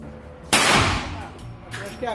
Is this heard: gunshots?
yes